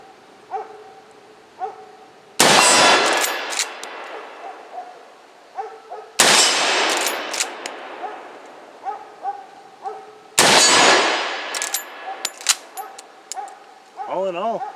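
Three loud, sharp rifle shots ring out at an outdoor shooting range, each a sudden blast with a long echoing decay, spaced about four seconds apart, with faint chirps and background sounds in between.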